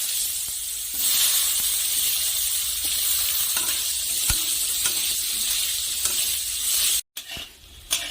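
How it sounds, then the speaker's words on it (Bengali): Potatoes frying in leftover fish-frying oil give a steady, dense sizzle and hiss close by, with occasional stirring scrapes, cutting out briefly near the end. "এখন এই মাছ ভাজার তেলেই আমি আলু ভেজে নেব।"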